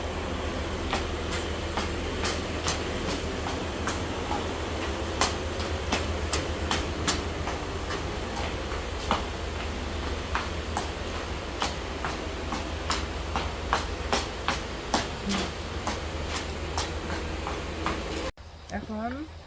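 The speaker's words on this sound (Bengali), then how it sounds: "এই যে মাত্র ছাড়লো ট্রেনটা।" A passenger train pulls out at night around 2 a.m., a steady low rumble with repeated clickety-clack wheel beats on the rails, loud and close throughout, with voices talking over it near the start.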